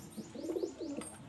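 A single pigeon in a loft in Kolkata gives a brief, soft coo, a low throaty warble heard close and quiet, with no voices over it.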